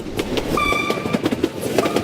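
Train moving along railway tracks, a steady rumbling roll with rhythmic clatter and a sustained tonal squeal or whistle-like ring partway through, loud and continuous without speech.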